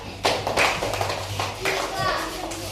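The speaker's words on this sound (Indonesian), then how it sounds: "Silakan dulu, tepuk tangan." Children clapping their hands in a classroom, a few short bursts of claps close by, mixed with kids' voices and chatter.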